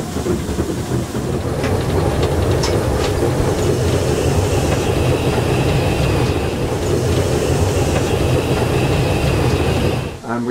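A steam locomotive labours up a steep gradient on the Bodmin and Wenford Railway in Cornwall, a loud, continuous rumble and chuff with rattling wheels, heard close for the whole stretch before it cuts off.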